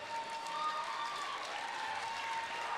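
Steady applause from an audience at a sports competition event, continuous clapping that holds at an even level throughout with a faint tonal hum underneath.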